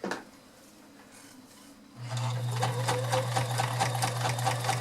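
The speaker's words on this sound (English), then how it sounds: "show you that you can sew your jeans with these machines" A vintage Kenmore 1560 convertible free-arm sewing machine stitches through denim jeans with a size 16 needle. A few quiet handling sounds give way to a loud, close motor hum and rapid, steady needle thumps.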